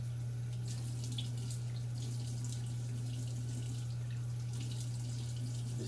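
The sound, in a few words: water running from sink faucet for rinsing face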